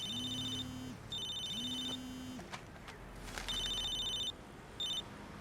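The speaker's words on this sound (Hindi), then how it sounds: "अरे तुम्हारा फोन बज रहा है।" A telephone rings in repeated bursts, a warbling electronic tone sounding several times with short gaps in between, fairly close and alone.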